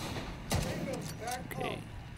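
A sniper rifle shot rings out in The Division 2 during a fight with Black Tusk enemies at Tidal Basin: one sharp crack, followed by fainter impacts and synthetic game sounds, with a background bed of combat noise.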